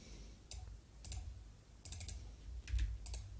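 A few separate bursts of computer keyboard typing while writing SwiftUI code, crisp nearby clicks in short clusters with brief gaps, no speech.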